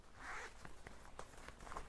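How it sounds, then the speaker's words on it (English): A zipper on a bag's pocket is pulled open softly and close, with faint rustling and handling in a quiet room. "let's see what's here in this zipper part"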